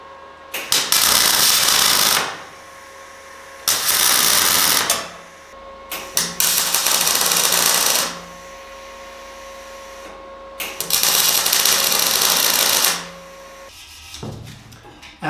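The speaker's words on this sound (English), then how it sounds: "But at first I will tack on these four legs to the frame." Tack welding four steel legs onto a metal table frame, heard as four loud bursts of crackling, hissing arc noise, each lasting about one to two seconds, separated by brief quiet gaps, with no talking.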